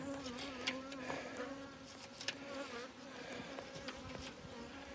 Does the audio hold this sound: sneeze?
no